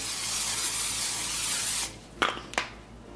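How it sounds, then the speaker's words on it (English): A steady olive oil cooking spray hisses for nearly two seconds, then cuts off, followed by a couple of light clicks or taps nearby. "I'm gonna spray it with a little olive oil cooking spray."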